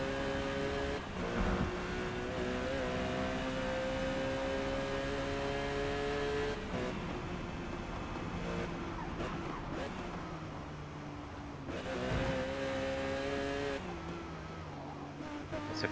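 A Porsche 911 GT3 in the Forza Motorsport racing game, lapping the Nürburgring Nordschleife: a steady, droning engine note holds high revs, easing and climbing in pitch through corners, under someone talking over it.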